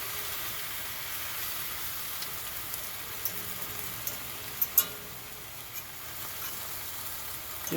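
Garlic mustard sautéing in oil in a pan on a stovetop, a faint, steady sizzle with occasional small pops, heard alone without talk.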